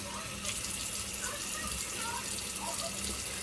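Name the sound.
tap water running while rinsing face at sink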